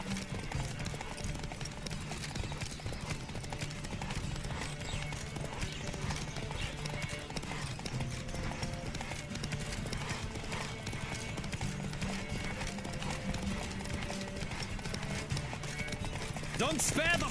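A horse gallops through a race in The Witcher 3, its steady clip-clop hoofbeats running throughout with occasional whinnies, layered under game music and someone talking over it.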